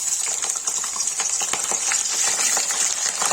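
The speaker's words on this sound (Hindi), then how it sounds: "इसमें बटर डाल दिए, इसको आप फ्राई करेंगे" Cauliflower frying in butter and refined oil in a pan, a steady bright sizzle with scattered small crackles and pops, close and continuous with no voices.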